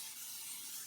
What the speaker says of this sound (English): I have a clean bowl, and I'm going to spray it with some